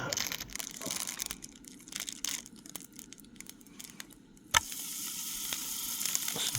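Burgers fry in a pan at a wild camp on the coast. Steady, crackling sizzle fills the clip, with a few scraping and crinkling handling noises and a sharp knock partway through, and the sizzle continues afterward.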